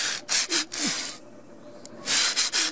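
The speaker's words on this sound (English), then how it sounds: "This here is 100 grit, so it's not too coarse, not too fine. And give it a buffing down." Trim is sanded by hand with 100-grit sandpaper, a series of loud, close rasping strokes in quick bursts, a quieter pause, then several more strokes.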